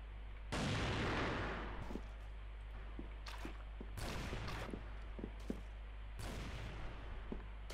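A turret in a first-person shooter game fires in heavy booming bursts, with three big blasts spaced a couple of seconds apart and sharp smaller shots and clicks between them over a constant low hum.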